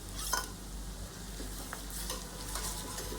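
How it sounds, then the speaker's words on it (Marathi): Green chili and garlic paste sizzles in oil with golden-brown onions for pav bhaji, a steady close frying hiss with occasional stirring scrapes. "यामध्ये मी ही हिरवी मिरची आणि लसूणची पेस्ट केली आहे ते मी ऍड करते"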